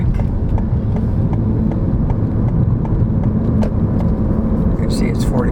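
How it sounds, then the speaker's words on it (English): Road traffic on Texas 46, a 45 mph road near the Guadalupe River, rumbles steadily as vehicles pass close by, with a continuous low engine and tire drone and scattered clicks throughout. "Traffic."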